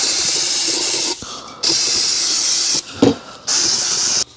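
Brake cleaner sprayed inside the cracked lower unit of an outboard boat motor, loud close aerosol hissing in three long bursts separated by short gaps, with a faint knock or clatter between them and no speech.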